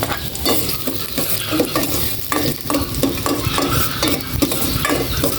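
Garlic sautéing in a pan for pork adobo, a steady loud sizzle with repeated stirring scrapes throughout, no talking.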